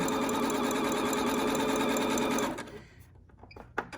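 A sewing machine runs a steady, rapid zigzag stitch along the 8-inch ends of a fabric face mask at the 1/4-inch mark, then stops after about two and a half seconds, leaving faint handling clicks.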